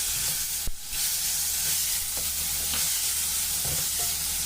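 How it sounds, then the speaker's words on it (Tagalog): Chopped onion sizzles steadily in a hot pan as it browns for Bicol Express, with a brief utensil clack near the start and faint stirring scrapes over the constant frying hiss. "Hayaan lang po natin din mag-brown ang ating onion."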